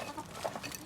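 Backyard chickens give a quick run of soft, close clucks in a brief moment.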